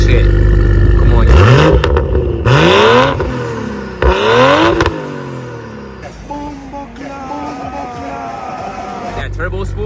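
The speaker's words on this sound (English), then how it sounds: "So definitely, yeah, that turbo spool and titanium exhaust, right?" Revving engine of a Toyota Supra with turbo spool and titanium exhaust and a large downpipe, loud rising and falling rev sweeps in several bursts, with people talking over it.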